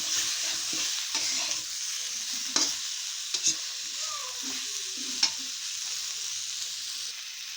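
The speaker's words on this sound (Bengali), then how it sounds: "হলুদ দিয়ে ভালো করে কষিয়ে নেব।" Potatoes and eggplant stir-fry with turmeric in a pan, a steady broadband sizzle broken by a few sharp scrapes and clacks of the spatula stirring, close and continuous with no talking.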